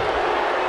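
A raucous wrestling crowd fills a Philadelphia arena with a steady roar of voices, loud and continuous with no breaks, packed with indistinct shouting.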